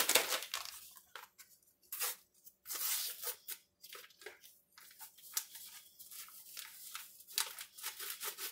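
Paper seasoning packets tear open and crinkle close by in quick, irregular rips and rustles, with no voice over them.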